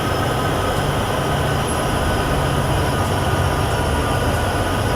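A BNSF freight train in the Train Sim World 6 video game runs at full power on the Cheyenne–Laramie route, a loud, steady, continuous rumble with rail noise and faint high wheel squeal, with no talking.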